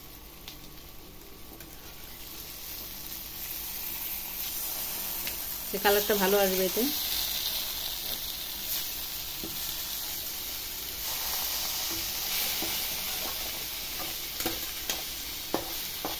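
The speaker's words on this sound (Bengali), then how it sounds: "দিয়ে সামান্য একটু ভাজা ভাজা করে নেব" Semolina mixture with chopped chilli, salt and coriander frying in a pan, giving a steady hiss and sizzle with occasional stirring scrapes, while someone talks briefly partway through.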